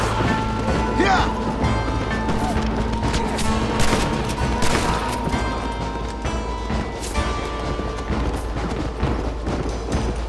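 Rapid bursts of gunfire in a shootout from a video game featuring the character Marston, dense and continuous across the whole stretch, with voices talking over the shooting.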